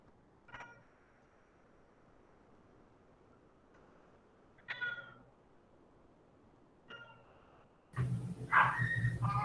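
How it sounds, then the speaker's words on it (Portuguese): A cat in heat gives three faint, drawn-out meows spaced several seconds apart, then a louder, close yowl at the end. "O gado aqui, gado, está no cio."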